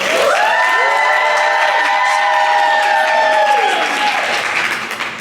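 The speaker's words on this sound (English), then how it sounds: "please give a large round of applause for Okrah Robinson" A live audience at a Friends in Beauty podcast event applauds and cheers as the host comes on stage, with loud sustained clapping, shouts and whoops, and a rising and falling vocal tone running over the crowd noise.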